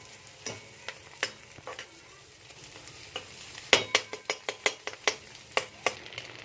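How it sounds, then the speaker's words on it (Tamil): Capsicum, carrot and cabbage sauté in a pan with a soft frying hiss, punctuated by a quick series of sharp spatula scrapes and clinks that grow busier toward the end; no voices. "கேப்சிகம், கேரட் நல்லா வதக்கி விடுங்க."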